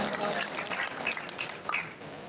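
Outdoor political convention crowd in Karachi clapping in a faint, distant patter, with a voice talking intermittently over it.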